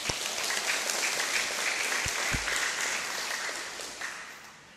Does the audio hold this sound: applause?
yes